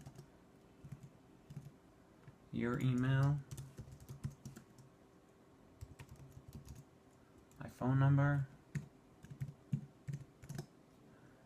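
Steady, soft clicking of keys being typed on a computer keyboard at a desk, continuing throughout, with a nearby person briefly speaking twice in between the keystrokes.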